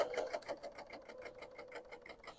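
A BERNINA L890 sewing machine stitching fabric for a quilt block with a flatlock stitch, running in a steady rapid rhythm of needle strokes, close by with no talking.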